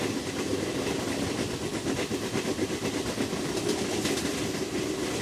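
A passenger express train runs steadily in the Trainz Simulator game, a continuous loud rolling rumble with rhythmic clickety-clack of wheels over rail joints throughout, with no talk.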